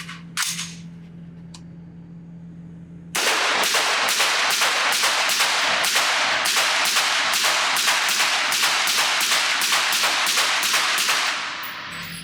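Rapid rifle shots fired through an OSS HX-QD Magnum Ti titanium flow-through suppressor on a magnum rifle at an outdoor range, a long steady string of loud evenly spaced cracks lasting about eight seconds after a quiet start.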